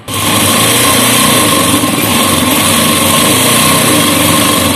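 A sewing machine runs steadily and loudly for a few seconds, a continuous high whirring hum while stitching piping on a blouse neck, with no talking.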